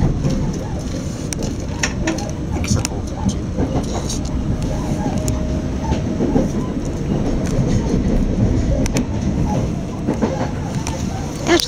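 Class 442 electric train rolling past on the line toward London Victoria, a steady rumbling roar with clicking rail noise and brief sharp transients, heard close from on board with voices talking over it.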